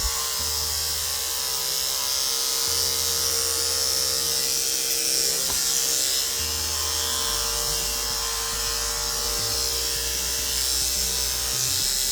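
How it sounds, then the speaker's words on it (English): Electric clippers trimming a dog's hair in a second pass, a loud, continuous close buzz running steadily throughout with slight shifts in tone as the blades move through the coat. "we're gonna go a second round with a clipper"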